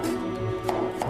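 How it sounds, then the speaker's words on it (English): A knife cuts a sponge gourd (loofah) into chunky rolling pieces for a stir-fry, with a couple of sharp board taps over a steady low hum. "cut the loofah into rolling pieces"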